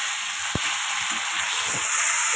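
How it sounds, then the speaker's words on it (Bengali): Potatoes fry in a pan with a steady, loud, hissing sizzle throughout, broken by a sharp knock and a few faint utensil scrapes. "11টার সময় আলু ভাজছি"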